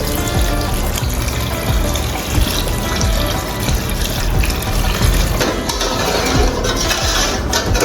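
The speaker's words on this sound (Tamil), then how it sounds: "இப்போ இதுக்கு வந்து ஒரு மூணு கிளாஸ் தண்ணி சேர்த்துக்கணும்" Steady, loud rush of about three glasses of water pouring continuously into a pot of chicken mandi biryani, a full splashing gush with no talking over it.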